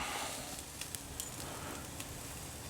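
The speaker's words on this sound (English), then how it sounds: "Listen to that sizzle." Cajun-seasoned tri tip sizzles on a grill with a quiet, steady hiss broken by scattered sharp crackles and pops, faint and close.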